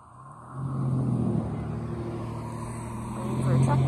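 A truck passing on a road during dog heel training, a steady low engine rumble that builds and grows louder toward the end, with a person's voice faintly mixed in.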